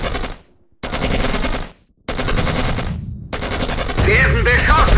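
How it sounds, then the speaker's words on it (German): Loud machine gun bursts rattle in the video game Panzers: Phase One, sustained volleys broken by short silences, with a shouted voice over the last burst. "Werden beschossen!"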